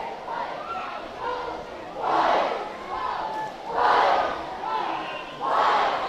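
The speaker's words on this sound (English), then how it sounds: "Look at the crowd getting crazy on the live stream" A football crowd at a game against Keaau roars in repeated loud swells about every second and a half, voices massing into cheering and shouts that rise and fall in waves.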